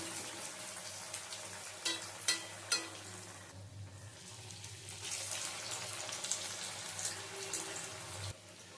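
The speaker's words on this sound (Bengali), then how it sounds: "এবারে একটা করে চপ এই ঝাঁঝরির মধ্যে নেব, নিয়ে এরকম করে ছেড়ে দেব, দিয়ে ভেজে নেব।" Breadcrumb-coated lote fish chops deep-fry in hot refined oil, giving a faint, steady sizzle broken by a few soft clinks of a slotted spoon.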